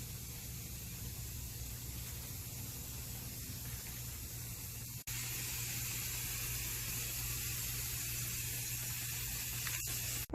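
Rust-Oleum American Accents paint with built-in primer sprays in a continuous airy hiss, one long burst that briefly stops and then resumes a little louder, with a short clatter at the very end and no speech.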